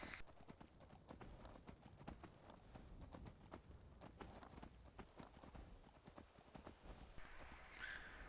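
A horse being ridden in Skyrim clip-clops at a steady trot, rhythmic hoofbeats repeating evenly and moderately close, with faint ambient game sound underneath and no talking.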